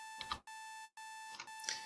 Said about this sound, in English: The alarm clock continued to ring.